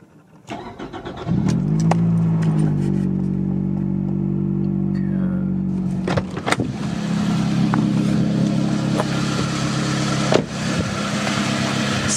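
A car engine cranks and starts after an oil change, then settles into a steady, close idle with a brief rev and a few clanks near the end.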